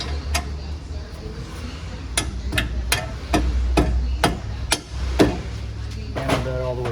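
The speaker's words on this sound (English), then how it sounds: "Hammer that all the way through." Sharp metallic hammer blows drive a new bolt through a replacement control arm on a 2012 Nissan Rogue, about ten close, crisp strikes at an uneven rhythm over a low workshop rumble.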